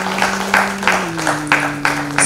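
A crowd at a Dhrupad music and yoga day event claps to welcome Pandit Akhilesh Gundecha on stage, a loud, dense wash of applause with a steady held tone running underneath.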